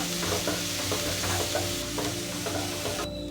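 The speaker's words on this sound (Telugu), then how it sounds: "ఇవన్నీ హై ఫ్లేమ్లో 1-2 నిమిషాలు కాల్చుకుందాం." Spring onions, carrot and green capsicum stir-fry on a high flame for egg fried rice, giving a loud, steady sizzle with scraping stirring strokes throughout and no talking.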